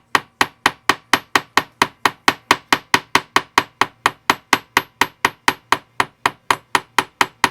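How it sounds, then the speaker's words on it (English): A hammer taps metal ear wire on a hard surface to work-harden it, in a fast, steady rhythm, around thirty sharp, ringing strikes close up with no talking. "And then I'm going to hammer"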